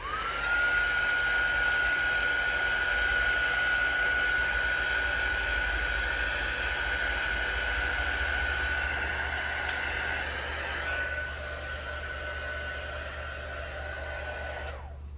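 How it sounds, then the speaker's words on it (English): Heat gun drying a paper journal card, a steady whooshing blower with a thin high whine running continuously, close and fairly loud, easing slightly near the end before cutting off, no talking. "my heat gun, see if I can get this dried a little bit."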